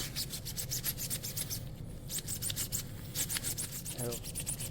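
Steady scraping and rubbing strokes as an electric motor rotor, serviced after a 98 mph pass, is scrubbed clean, a repeated rasping rhythm lasting throughout at close range.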